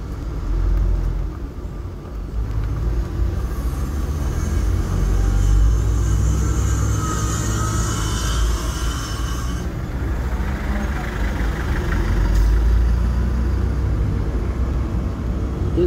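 A heavily loaded truck labours uphill on Mt. Rosser in Jamaica, producing a deep, continuous engine rumble that stays loud and close, with swelling strain and road noise for the whole stretch.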